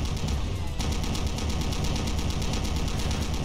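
Enemies in the Stronghold Doom mod fire rapid automatic gunfire, a dense rhythmic stream of shots that starts after a brief pause and keeps going, loud and continuous.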